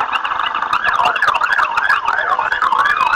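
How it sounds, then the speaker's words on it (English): A fire department vehicle in a town parade sounds a loud wailing siren that rises and falls in quick, steady cycles, close and dominant. "the fire department coming through, guys. You can obviously hear them."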